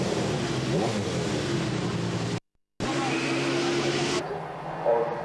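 1995 DTM touring car engines roar at the start of the second race, a loud sustained on-board drone of revving engines with a brief dropout, and a commentator talking over it.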